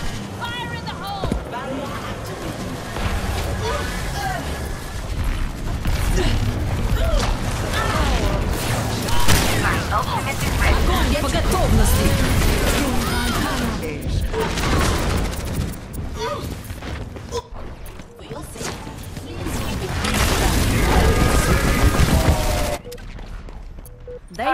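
A grenade explodes in a shooter video game amid sustained gunfire, with a heavy boom and dense bursts of shots and clatter throughout, loud and close, while game voices call out over the din.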